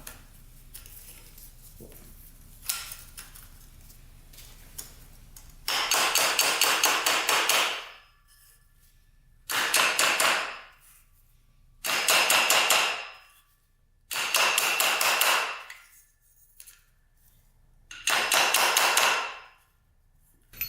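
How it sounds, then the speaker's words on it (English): A half-cut PVC pipe is pounded down over a ring on a Honda CR80 dirt bike, with five bursts of rapid hammer taps, each lasting about two seconds and separated by pauses, close and loud with no talk. "Now we're going to pound this down."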